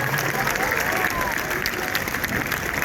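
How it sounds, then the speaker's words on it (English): An audience at a junior soccer club presentation day gives a huge round of applause, loud sustained clapping with some crowd murmur and faint cheering mixed in. "let's give these guys a huge round of applause"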